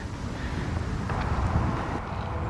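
Constant rumbling wind in 25-mile-an-hour gusts buffets the microphone, a dense low roar that swells slightly in gusts throughout.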